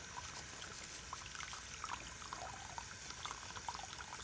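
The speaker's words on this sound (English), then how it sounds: "Make sure you rinse them off very good." Tap water running over dentures as they are rinsed in a sink, a faint continuous splashing trickle with small spatters, steady throughout and without talk.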